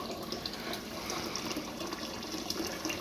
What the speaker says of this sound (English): We're getting some fresh water, and we're going to do some more.